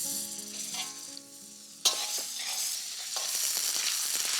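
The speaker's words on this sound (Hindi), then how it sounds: "अब मच्छी भी सेक लेता हूं ना।" Fish sizzles and crackles in hot oil in a pan, starting with a ringing tone that gives way to a sharp burst of loud spattering and steady frying, close by with no talk.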